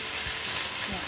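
Chicken mince with pasta fries in a pan, a dense, close, continuous sizzle with soft scraping as the mixture is stirred.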